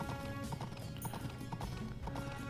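A horse ridden in the farming game Story of Seasons: Pioneers of Olive Town trots with a quiet, steady clip-clop of hooves over soft background game music.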